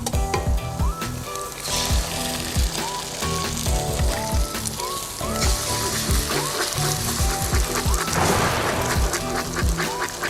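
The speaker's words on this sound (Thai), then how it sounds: "ตอกไข่ลงไปนะคะ" Eggs cracked into a hot pan and fried with sausage fried rice, giving a continuous close sizzle with scattered utensil scrapes and taps throughout, and no talking.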